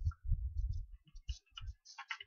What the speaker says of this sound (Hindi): तो समझ लीजिए मैं क्लिक करता हूँ